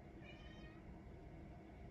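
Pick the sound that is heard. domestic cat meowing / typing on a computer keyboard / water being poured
domestic cat meowing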